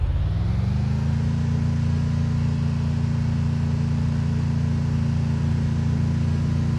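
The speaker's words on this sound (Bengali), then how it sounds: "যখন তোমরা গেমের মধ্যে গাড়ি চালাবে তখন তোমাদের শব্দটা কেমন হবে তোমাদেরকে একটু শোনাই।" A car driving in the mobile game Free Fire MAX gives a loud, steady engine drone that holds without a break, with no talk over it.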